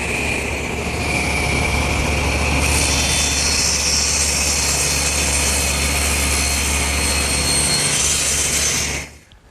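A table saw runs steadily and loudly while making rip cuts with a small tenon jig, a continuous roaring whine that holds for about nine seconds before cutting off and spinning down at the end.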